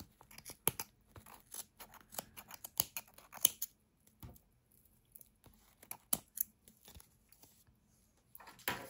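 Sharp, irregular snips of scissors cutting through tightly knotted string, a series of close crisp clicks separated by quiet pauses, with no voices.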